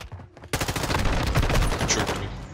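Rapid bursts of gunfire in the video game Call of Duty Modern Warfare II, loud and close, starting abruptly after a brief quiet moment and continuing densely for about two seconds with sharp repeated shots.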